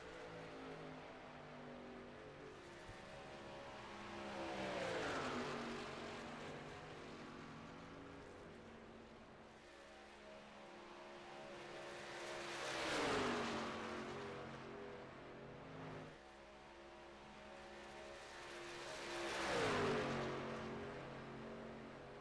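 Race trucks in a racing video game roar past in three long swells, their engine notes rising and falling as each pass builds and fades, fairly faint and steady with no talking.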